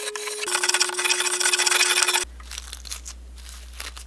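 Rough, steady scraping of a spokeshave shaving a wooden axe handle by hand, loud and continuous for about two seconds, then it stops and quieter scattered sounds follow over a low hum.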